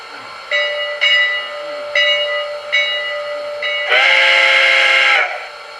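A Nickel Plate Road 765 steam whistle from a model train sound decoder gives a series of short, loud toots over a steady tone. A burst of loud steam hiss follows near the end, and no one speaks.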